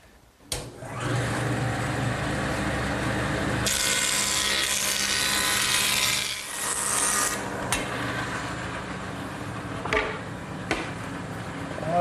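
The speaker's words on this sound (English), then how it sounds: "I'm going to straighten the edges on my joiner." A jointer in a woodshop straightens the edges of wooden boards: the cutterhead whines up loudly and steadily, shifts in tone as a board passes through, then spins down, with a few sharp knocks near the end.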